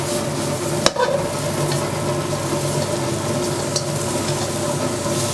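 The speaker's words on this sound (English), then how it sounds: "I add more spinach." Spinach sizzles and fries in a hot pan, a steady crackling hiss with a sharp scrape of stirring near the start and another light clink later, close and continuous with no talking.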